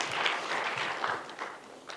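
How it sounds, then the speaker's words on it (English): An audience applauds to welcome a speaker at a stakeholder workshop on financial investigations, with a short burst of steady, dense clapping from a roomful of people. "Let's welcome with a round of applause."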